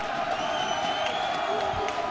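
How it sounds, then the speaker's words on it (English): A crowd cheers and whoops at a varsity hockey game as the home team runs out, a steady loud roar from a packed indoor venue. "And the crowd is into it already."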